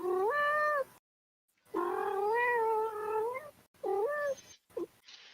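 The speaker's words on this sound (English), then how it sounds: "I'm watching a cute cat video while I wait." A cat in an online cat video meows several times, with drawn-out, wavering calls separated by silent gaps, ending in a few shorter chirps.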